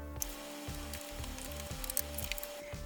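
Unif stewed beef instant noodles being stirred together with their oil sachet give off faint wet squelching and soft slippery clicks, quiet and close over a steady low background hum.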